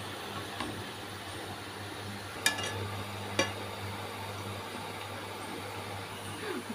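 Gram flour (besan) frying and being stirred in a pan for laddu, a soft continuous sizzle with a few sharp scraping clicks of the spoon, heard alone without talk.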